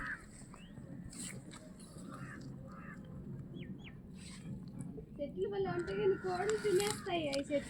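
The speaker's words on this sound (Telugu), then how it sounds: "ఎన్ని కోళ్ళు తినేస్తున్నాయి" Chickens cluck and squawk in the background in a garden with table roses, growing louder toward the end, with outdoor ambience and faint voices.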